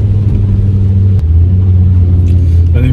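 A Ford Focus ST with its 2.5-litre five-cylinder engine drones loudly and steadily while driving, a deep close-up rumble with a brief dip in pitch as it shifts, then pulls on again.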